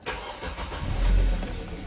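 A 2007 Kia Spectra engine cranks and fires up right after an oil change, a loud close starter whir followed by the motor catching and settling toward idle, with no talk.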